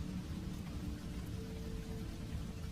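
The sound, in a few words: rain of a storm at night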